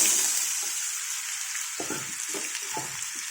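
Mustard seeds spluttering in hot oil for a potato masala curry, a steady bright hiss with a scattering of soft, quick pops near the end.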